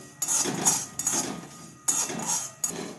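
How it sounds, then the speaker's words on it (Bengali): Whole cumin, five-spice seeds and dried chillies dry roasting in a dry pan, heard as four loud, close bursts of scraping and rattling against metal with short pauses between them and no talk. "এরপর আমি গোটা জিরে, 5 ফোড়ন আর শুকনো লঙ্কাটা এর মধ্যে দিয়ে ভাজবো।"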